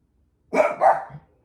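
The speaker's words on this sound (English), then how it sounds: "my dogs aren't just barking for no reason" Dogs barking at home, two quick, loud, close barks in a row followed by a softer trailing yelp, with silence before and after.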